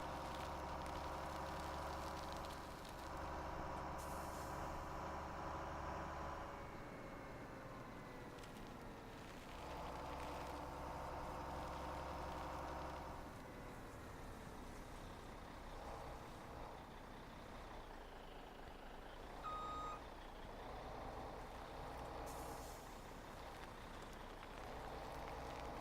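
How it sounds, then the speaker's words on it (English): A semi truck in Farming Simulator 17 gives a sustained engine rumble that rises and falls as it drives and maneuvers, with a faint reversing beep near the end and air-brake hiss, and no talking. "Hard time with that semi truck."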